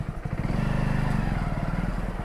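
A motorcycle engine idling close by as the bike is parked, a steady throbbing putter with a loud, even beat.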